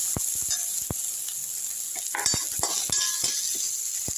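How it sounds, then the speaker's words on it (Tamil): Onion and crushed garlic sautéing in a pan for beetroot poriyal, with a steady high sizzle under scattered sharp clicks and scrapes of a spoon stirring, close and fairly loud, no talking. "இந்த வெங்காயமும் பூண்டு தட்டி எடுத்து பூண்டையும் போட்டுருங்க. நல்லா வதக்கி விட்டுருங்க."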